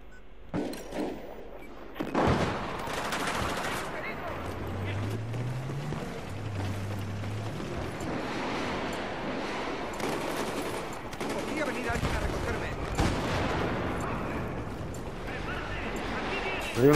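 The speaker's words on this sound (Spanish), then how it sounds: "Hay uno atrás disparando" Gunfire in the Battlefield 4 video game on the Zavod map: repeated bursts of automatic fire and shots, loud and close, under occasional talk from a player.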